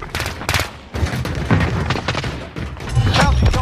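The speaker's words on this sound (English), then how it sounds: "Grenade out." A grenade blows up in Warzone amid steady gunfire, with heavy booms and rapid shots overlapping loudly while players talk over the chaos.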